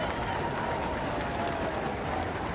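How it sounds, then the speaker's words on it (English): A big crowd at a Philadelphia Surge versus New York Gridlock lacrosse game roars continuously and loudly, a dense wall of cheering with no clear break. "Here's our crowd here. Philadelphia, we weren't lying. They're all here, and they're loud."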